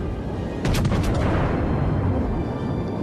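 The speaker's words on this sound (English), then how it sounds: "Two turrets fired." A battleship's turret guns fire a salvo in World of Warships, the video game. It opens as a loud, heavy boom that rolls into a sustained low rumble over a few seconds.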